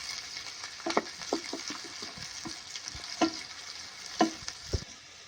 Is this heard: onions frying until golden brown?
yes